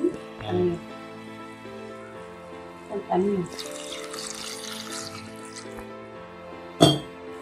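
Water pours steadily into a mutton curry with a soft splashing hiss through the middle, between short bursts of speech, ending with a brief louder clatter.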